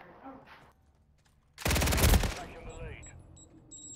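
Automatic gunfire in a Call of Duty match, a loud close burst of rapid shots lasting about a second amid quieter game sounds.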